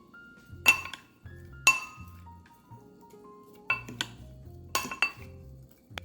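A tomato, red onion and cucumber salad tossed in a bowl, with utensils giving about five sharp, bright clinks against the bowl, spaced apart over quiet, with no talking.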